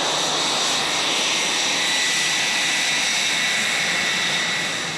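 Military jets, Mirage F1 and Rafale, roar loudly and steadily on an airbase tarmac. The broad engine noise fills the whole stretch without a break, and no voices are heard.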